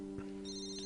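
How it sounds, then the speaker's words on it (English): A phone rings late at night, a steady electronic ringtone with sustained tones and a higher melodic layer entering partway through, fairly faint and alone without talk. "when my phone begins to ring."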